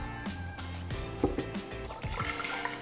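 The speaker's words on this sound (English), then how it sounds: "We start with some water." Water poured into a Vitamix blender jar for a mango slushy, a steady liquid fill with splashy, gurgling texture and small clinks, close and moderately loud throughout.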